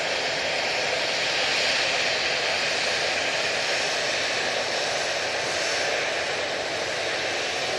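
An easyJet airliner arriving at Manchester Airport produces a steady, moderately loud jet engine roar with broad hiss, sustained evenly across the whole stretch without speech.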